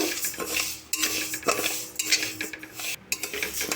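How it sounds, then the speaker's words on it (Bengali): Mung dal dry roasting with two bay leaves in a dry wok over medium flame, a busy run of scraping and clinking as a utensil stirs the lentils against the metal, fairly close, with no talking. "মুগ ডালটা আমি প্রথমে শুকনো কড়াইয়ের মধ্যে ভেজে নেব দুটো তেজপাতা দিয়ে"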